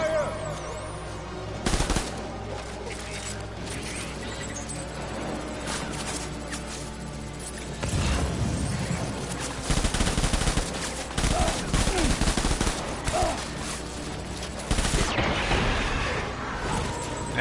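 Video game Death Stranding gunfire at a hostile gate, sharp rapid machine-gun bursts in several clusters, loud and close against quieter background game sounds.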